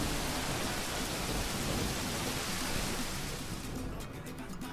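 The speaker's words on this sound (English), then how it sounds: "It's a thunderstorm." A steady thunderstorm in the video game Tropico 4, with dense rain hissing and a low rumble of thunder throughout, loud and continuous before thinning slightly near the end.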